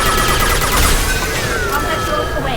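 Dense, continuous gunfire fills a Mass Effect 2 battle, loud and close. Combat noise and effects layer over it for the whole stretch.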